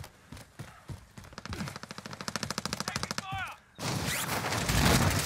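Rapid automatic gunfire in Call of Duty Warzone, a fast, evenly spaced string of loud close shots lasting a couple of seconds, followed by a brief chirp and a heavier roar of game noise.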